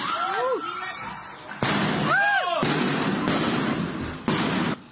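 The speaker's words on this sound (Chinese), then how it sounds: "缅甸仰光的街道传出枪炮声" Gunfire echoes through the streets of Yangon, Myanmar, in a few sharp bursts mixed with loud crowd noise and shouting, with whistling sounds over a continuous, heavy roar.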